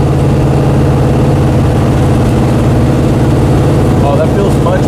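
Car engine on a long road drive, not fully warmed up, a constant loud low rumbling drone filling the whole stretch, with faint rattles and hum near the end.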